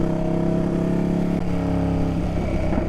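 Ducati Panigale V2 sport motorcycle ridden on the road, its engine droning loud and steady from the rider's position, pitch climbing slightly as it rolls on throttle to pass an SUV, with wind noise throughout.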